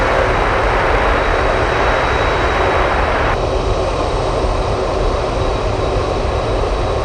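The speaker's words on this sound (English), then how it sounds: "Looks like the Atlas charter flying in from Guam." Atlas Air charter jet arriving into Anchorage from Guam, a steady broad roar of jet engines that fills the whole stretch, loud and continuous with a slight drop in brightness partway through.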